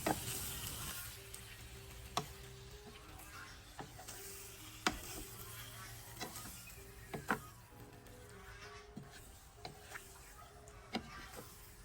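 Spoon or spatula clacking against a pan as pork is stirred and sautéed for pork afritada, with a steady faint sizzle underneath and a series of sharp scraping ticks at irregular intervals.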